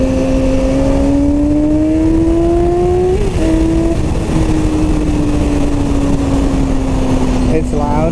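Yamaha R6 motorcycle fitted with a Radiant short pipe exhaust, a steady engine drone with rising and falling pitch as it is ridden, loud and continuous throughout with wind noise and no speech over it.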